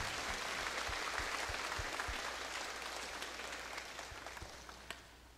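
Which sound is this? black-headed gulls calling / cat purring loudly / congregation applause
congregation applause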